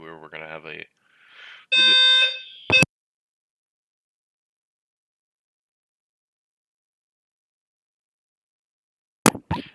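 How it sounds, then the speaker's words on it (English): Fire alarm test in a room: after a few spoken words, a loud shrill tonal alarm beeps for about a second, then near silence, and a brief sharp blip returns near the end. "that is the fire alarm testing I mentioned"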